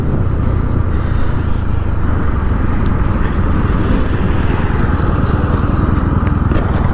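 Pulsar NS200 and KTM RC200 motorcycles at full throttle in a drag race, their engines producing a continuous, loud, close-up droning roar that holds steady throughout.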